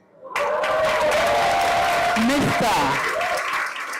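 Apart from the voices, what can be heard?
audience applause and clapping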